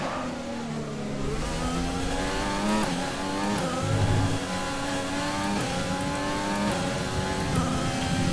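Simulated F1 car from the F1 2020 racing game, a continuous high-pitched engine note rising and falling with gear changes and throttle lifts, steady and loud throughout with no talk.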